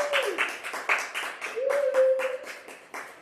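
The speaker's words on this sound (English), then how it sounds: "Can we get a hand clap back to y'all?" An audience claps in a brisk, fairly even rhythm of separate hand claps, close and lively, with a voice calling out over the clapping partway through.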